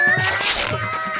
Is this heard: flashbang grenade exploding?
no